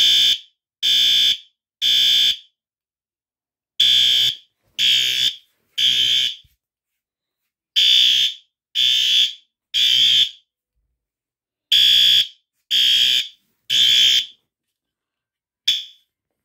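A P2RL fire alarm horn sounds the temporal 3 pattern: three loud, harsh blasts, a pause, then three more, repeated four times with a fifth group starting at the end, with no voices.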